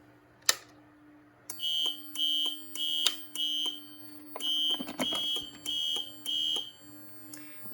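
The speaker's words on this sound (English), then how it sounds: "let's trip the alarm." A fire alarm panel sounds: a sharp click, then a repeating electronic alarm tone in short even bursts, loud and close, over a steady low hum.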